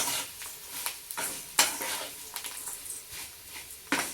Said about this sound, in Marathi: तर मी इथं पूर्ण पोहे असे टाकले. आणि पोहे सुद्धा आपल्याला 1-4-5 मिनिट हलवून घ्यायचे.